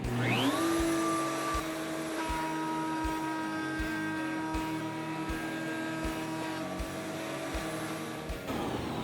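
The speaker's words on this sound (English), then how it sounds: "one flip of a switch turns both the tool and the vacuum on." A woodworking router at a router table and a shop vacuum switched on together, spinning up with a rising whine into a steady, loud, continuous roar and high tonal hum with faint rhythmic ticks, no talking.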